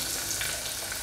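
Chopped onions hitting hot oil with green chili and curry leaves, a brief, steady hiss of frying close up, no voices.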